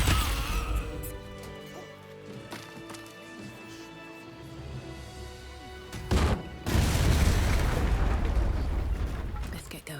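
A loud explosion erupts in Baldur's Gate 3, with a sharp blast followed by a heavy, roaring crash and rumble that fills the second half, preceded by layered game sounds and music.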